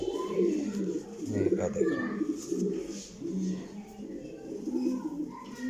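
Pakistani flying pigeons, Sialkoti crosses, coo in soft repeated throaty calls from close by while someone speaks briefly.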